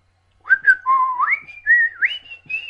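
A person whistles a melodic tune from Kill Bill, a series of clear sliding notes heard up close, solo after a moment of silence, with no talking.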